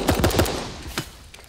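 Rapid gunshots from weapons in the Super Animal Royale video game, a quick burst of several sharp cracks followed by a few isolated shots, moderately loud with no talk over them.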